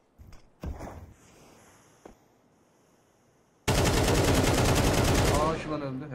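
Gunfire in the video game Counter-Strike 2: a few sharp single shots early, then a loud sustained burst of rapid automatic fire lasting about two seconds near the end.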